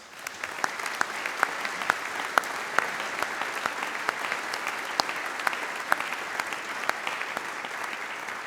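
An audience at a Royal Conservatoire of Scotland summer graduation in Glasgow applauds an honoree, producing steady, moderately distant clapping with individual claps standing out in a regular rhythm and no voices.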